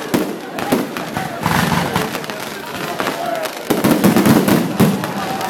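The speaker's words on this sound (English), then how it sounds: "I will allow you 5 minutes grace to watch this beautiful fireworks." New Year's Eve fireworks bursting in a dense, irregular volley of sharp bangs and crackles, loud and close, with a crowd cheering and people talking throughout.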